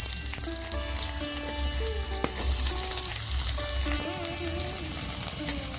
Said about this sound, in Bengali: পেঁয়াজ কুচি দিয়ে ভালো করে নেড়ে নেব যতক্ষণ না ভাজা ভাজা হয়।